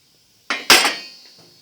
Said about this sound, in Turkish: Ben hemen kapatıyorum altını ve açıyorum tenceremi.